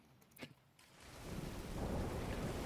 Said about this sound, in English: the rain is kind of perfect